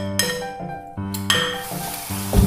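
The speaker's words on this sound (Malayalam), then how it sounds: "അതിലേക്ക് ഈ നേന്ത്രപ്പഴം ഇട്ടിട്ടൊന്ന് വഴറ്റിയെടുക്കാം." Ripe nendran plantain sautéing in about two tablespoons of ghee in a pan for a rava banana snack, with steady close sizzling broken by several clinks and scrapes of a utensil against the pan.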